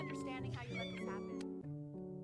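A cat meows in the video game Before Your Eyes. Several rising and falling meows come close together with a whiny, wavering tone. They are quiet, with a steady sustained tone beneath them.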